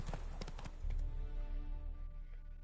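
Rapid clip-clop of horse hooves on hard ground in a video game, loud and close, with a steady low rumble underneath.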